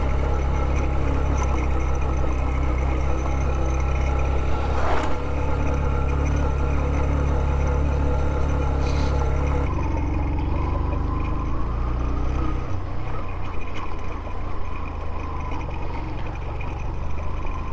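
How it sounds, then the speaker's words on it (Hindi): A motorcycle labours uphill in second gear on a steep mountain track in the Shimshal Valley, its engine a steady close drone with a low rumble that drops in pitch partway through and continues without talk. "अच्छा पहले दूसरे गियर से बाहर नहीं निकल रही बाइक।"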